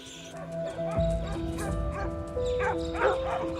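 Dog barking sounds in the Australian bush: repeated sharp barks and yips with whimpers, close and fairly loud over a busy background.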